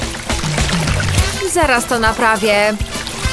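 Water pours into a bathtub in a cozy little room, a steady running splash mixed under a voice speaking throughout.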